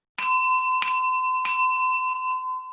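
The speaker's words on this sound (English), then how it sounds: "So, get my little gong here." A small meditation gong is struck three times at an even, unhurried pace, each clear metallic tone ringing out close and loud and overlapping the previous one before fading slowly.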